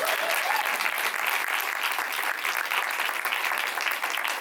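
An audience at a film Q&A event claps in sustained, dense applause that stays loud and even throughout, with no speech over it.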